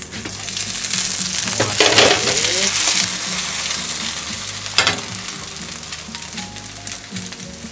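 Okonomiyaki steam-frying in a frying pan with a steady loud sizzle and crackle that swells at moments, with a few brief clinks and scrapes of a utensil or lid against the pan.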